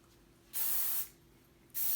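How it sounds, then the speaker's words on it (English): Two short hissing bursts from an aerosol hairspray can sprayed onto sections of hair, the first about half a second long and the second starting near the end. "And then with each section you spray."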